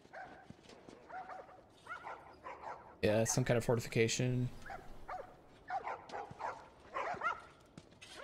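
Dogs bark repeatedly from kennels in The Last of Us Part 2, with a loud cluster of barks and yips in the middle. Game characters talk at moderate level throughout, before and after the barking.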